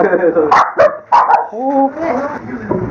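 Small dogs inside an office bark loudly in sharp, excited bursts, then yip and whimper, with people talking over and between the barks close by.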